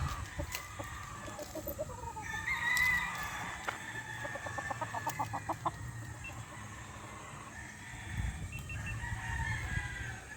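A Super Sweater gamecock rooster at a game farm crows in drawn-out calls and clucks in quick bursts, moderately close, over low background rumble and other fowl.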